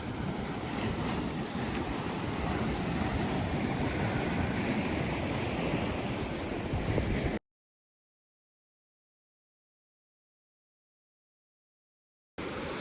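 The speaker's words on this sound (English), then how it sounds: "Got big waves though. For us, these are big waves." Loud, steady roar of big ocean waves breaking on a beach during a bomb cyclone with high tides, with wind rushing across the microphone; it cuts to silence, then returns briefly.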